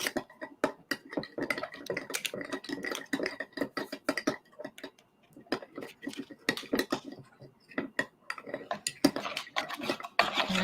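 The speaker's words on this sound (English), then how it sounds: "And I'm just using a spoon to kind of get it incorporated." A metal spoon stirring KNOX gelatin into turkey broth in a bowl, steady repeated clinks and scrapes against the dish in a busy, continuous rhythm, with no talk.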